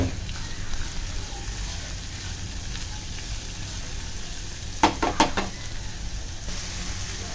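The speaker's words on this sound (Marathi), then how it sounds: "काही लाल होईपर्यंत आपल्याला पहिलं कांदा परतून घ्यायचा आहे, चांगला लाल होईपर्यंत" Onion fries on a high gas flame for a Malvani dried prawn gravy, a continuous close sizzle with a quick burst of metallic stirring clatter near the middle.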